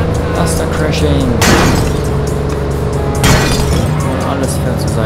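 A truck crashes twice in The Godfather video game, each impact a loud burst of shattering and crunching debris over steady engine and game noise.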